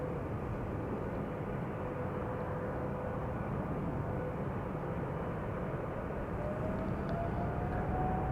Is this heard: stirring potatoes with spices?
no